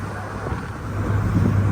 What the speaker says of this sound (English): feeling and hearing the sound of the engine